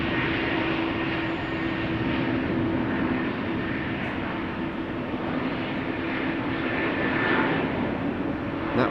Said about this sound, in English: All new airplanes, A321neo, Max 9, behind that a KLM E2 Embraer 195, all modern jets.